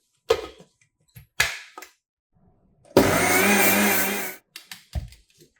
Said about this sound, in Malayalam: ആദ്യം നമുക്ക് ഈ പഞ്ചസാര മിക്സിയുടെ ജാറിലിട്ട് നന്നായിട്ടൊന്ന് അടിച്ചെടുക്കാം